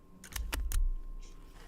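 A few quick clicks of keys on a computer keyboard, brief and close, with quiet room noise afterward.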